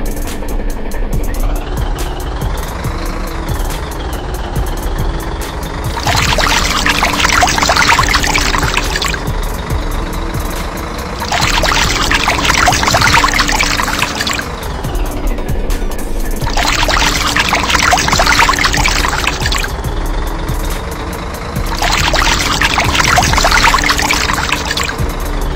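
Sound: water washing railway track in bridge construction video game

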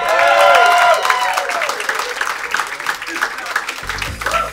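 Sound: audience applause at stand-up comedy show

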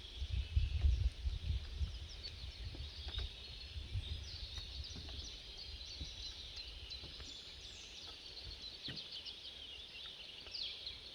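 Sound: birds singing in forest

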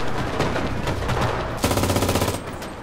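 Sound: machine gun fire in the video game Enlisted

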